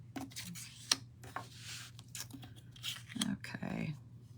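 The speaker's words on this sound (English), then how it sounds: "And then I'm going to cut it with that rectangle." Cardstock being cut with a rectangle die for handmade cards, a few short crunching and rustling bursts up close, with quiet handling sounds in between.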